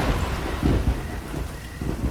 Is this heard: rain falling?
yes